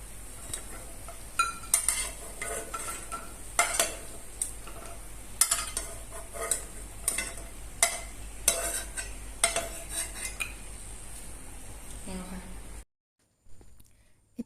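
Cashew nuts frying in a pan with a faint sizzle under repeated clinks and scrapes of a spoon stirring, close and irregular, before the sound cuts off near the end.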